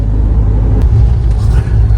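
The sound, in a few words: road traffic in Gaya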